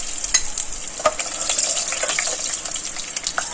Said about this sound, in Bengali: আমি এবার এই বাটিতে আলুগুলো তুলে নেব